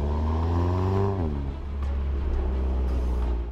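An Audi TT Coupe engine accelerates up close, a strong steady drone that rises in pitch, shifts, and keeps pulling, with no voices over it.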